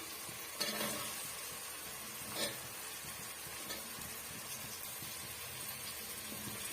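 Sliced onion and green chillies sautéing in a pan, a soft, steady sizzle with a few faint stirring scrapes, fairly quiet and without speech.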